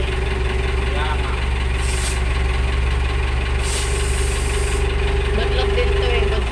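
Truck engine idling with a steady low rumble and rhythmic knock while being moved forward, people talking over it.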